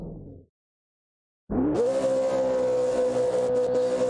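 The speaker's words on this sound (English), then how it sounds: "I think he's going to do some burnouts." A car in the rFactor 2 racing game at Phillip Island fires up after a brief silence and holds a loud, high, sustained rev, as if starting a burnout.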